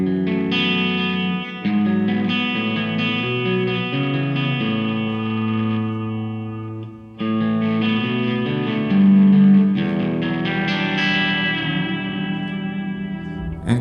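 A PRS guitar in tap mode plays through a DG Custom amplifier on a clean tone, picking single notes and chords that ring out with rich sustain and reverb across several phrases, with a brief pause near the middle.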